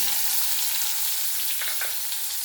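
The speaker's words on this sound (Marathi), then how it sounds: "एक छोटासा बारीक कांदा चिरलेला आहे ते कांदा टाकायचा" Finely chopped onion hits hot oil with cumin seeds in a pan, giving a dense, bright sizzle that holds steady and loud at close range throughout.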